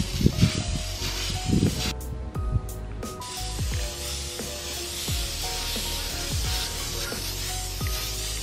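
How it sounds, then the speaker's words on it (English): Bursts of aerosol hissing from a red spray paint can, in short repeated sprays over a steady hum with faint music-like tones underneath, painting a Nerf bow. "I'm going to start using some red spray paint"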